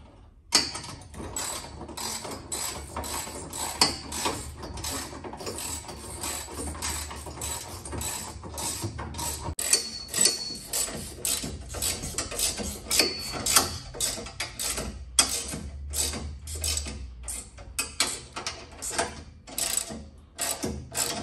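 Bolts on the horizontal tie bars of a Land Rover 90 soft top heavy-duty conversion kit are tightened with a ratchet, giving long runs of quick, close clicking with short pauses between strokes.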